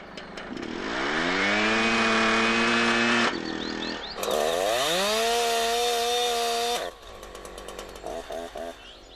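A chainsaw engine revs loud and close, its pitch climbing and holding in sustained high-throttle bursts, dropping briefly between them, then falling back to a rough, sputtering idle.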